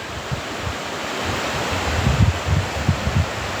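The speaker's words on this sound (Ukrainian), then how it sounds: "Все, все річка Свіча." The Svicha river flows beneath a railway bridge, giving a steady rushing wash of water with soft low gusts of wind, heard alone with no voices.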